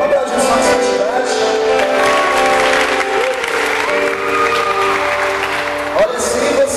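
A crowd claps loudly and continuously at a celebration, dense applause with tonal sounds and voices mixed underneath, holding steady for several seconds.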